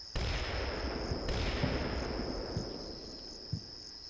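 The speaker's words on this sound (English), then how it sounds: "Alright, artillery's landing." Artillery shells land in a video game, heard as a dull, sustained roar of distant blasts with a couple of sharper impacts, over a steady high insect-like whine.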